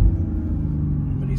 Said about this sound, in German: wie das Auto so aus dem Stand beschleunigt